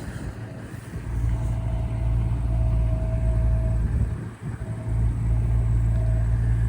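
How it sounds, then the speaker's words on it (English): An old farm wheat truck engine idles and runs with a low, steady rumble close by, holding constant apart from a brief dip midway. "The old wheat truck."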